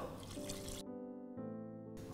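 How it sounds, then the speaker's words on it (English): Water poured from a cup onto mutton in a pressure cooker, a short close pour with a splashing, trickling start that briefly eases and then resumes. "So just put the mutton in the pressure cooker, add about a cup of water"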